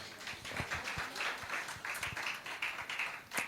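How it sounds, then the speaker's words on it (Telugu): A church congregation claps loudly during a Resurrection Sunday service, a dense, continuous wash of many hands from a crowd in a large room, steady throughout without talk. "గట్టిగా చప్పట్లు కొట్టండి."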